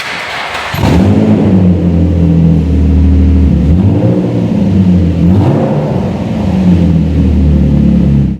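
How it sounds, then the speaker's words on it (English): A Nissan 350Z engine roars to life with the exhaust removed entirely, holding a loud, deep rumble, revving up and down a couple of times, raw and unmuffled. "I'll show you what it sounds like with the exhaust off completely."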